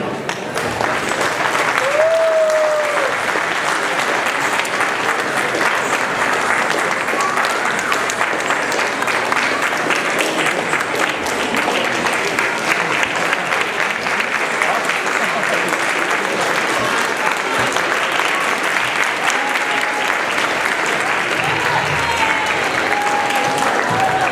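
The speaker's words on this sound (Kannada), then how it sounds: "ನಿಮ್ಮ ಒಂದು ಚಪ್ಪಾಳೆನೇ ಅದನ್ನು ನಮಗೆ ಹೇಳ್ತಾ ಇದೆ ನಿಮಗೆ ಎಷ್ಟು ಇಷ್ಟ ಆಯಿತು ಈ ಕಾರ್ಯಕ್ರಮ ಅಂತ" Sustained audience applause at a Ganeshotsava stage programme, a dense, steady wash of clapping from a large crowd filling the whole stretch without a break.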